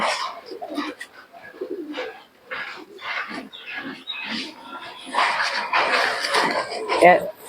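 Giribaz and yellow Mukhi pigeons coo in soft bursts close by while people talk over them, with a few short bird calls mixed in.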